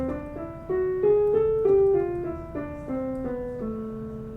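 Piano playing a melodic minor scale, one clear note at a time in an even rhythm, rising through eight notes and then descending, each note ringing briefly into the next at moderate volume.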